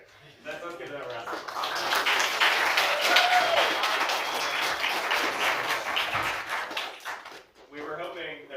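An audience at a Latin certamen quiz competition claps together after an answer, a dense sustained round of applause lasting several seconds before tapering off, with voices faintly mixed in.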